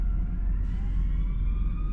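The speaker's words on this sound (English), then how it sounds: "I hear sirens too. Fire department." A fire department siren sounds in the distance, its rising and falling tones steady under a low rumble of background noise for the whole stretch, with no talking.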